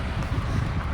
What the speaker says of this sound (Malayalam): നല്ല കാറ്റ്, ചെറിയ വെയിലാണെങ്കിലും നല്ല കാറ്റ്